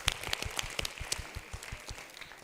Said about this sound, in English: let's give a round of applause for Tanisha